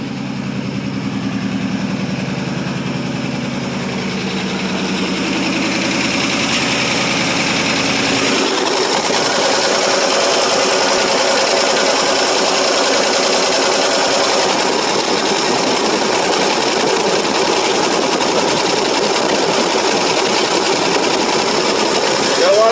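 A 1947 Ford Super Deluxe flathead V8, cold-started after sitting for two years, idles loud and close with a steady, continuous churning drone; other noise precedes it early on.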